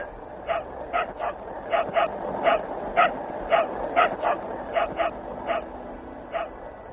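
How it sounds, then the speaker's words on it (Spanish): Laika the dog barking inside Sputnik 2 in a space recording: a run of short, yelping barks in irregular bursts, thin and faint over a steady hiss. "Es Laika ladrando desde algún lugar dentro del Sputnik 2."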